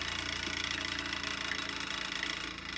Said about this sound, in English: I will cut in some back relief right here up to halfway across to make a chisel point.